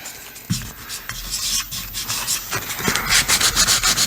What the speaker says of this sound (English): I'm just going to give this a real nice sand down